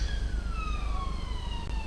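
An emergency vehicle siren wails continuously on a London street, its falling, wavering tones steady and fairly loud as it passes, with traffic rumble beneath.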